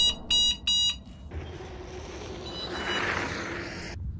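Horn of a Mars 2.0 e-bike sounds three short, loud tonal beeps in quick succession, followed by a steady background hum with no talk.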